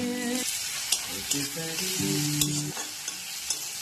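Potatoes frying with salt and turmeric in a pan, a steady close sizzle with stirring scrapes and a few sharp clinks of a utensil over sustained frying hiss, with no talk.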